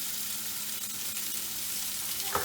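Garam masala and salt sizzle steadily in a hot frying pan for a paneer tikka masala, a continuous near frying hiss with a brief clink near the end; no talking.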